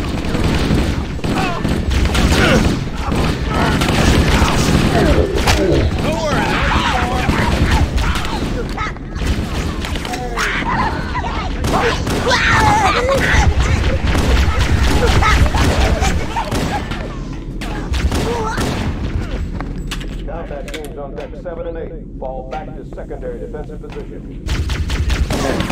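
Battle gunfire from the video game Halo: Combat Evolved: dense rifle bursts, automatic fire and heavy booms pile up loud and continuous, with shouting voices mixed in and the firing thinning out toward the end.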